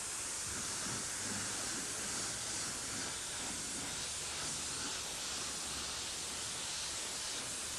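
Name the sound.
airbrush spraying purple paint onto motorcycle helmet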